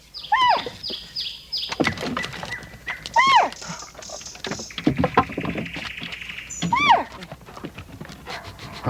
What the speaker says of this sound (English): the dog's job is to scratch and bark to alert the handler to the area with the